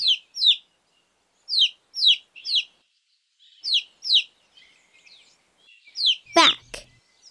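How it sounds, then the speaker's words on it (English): High, bright chirps from a newly hatched baby bird in a Daniel Tiger children's video game, repeated in short quick pairs and bursts with brief silent gaps, ending with a sharp sweeping sound effect. "Hello, baby bird."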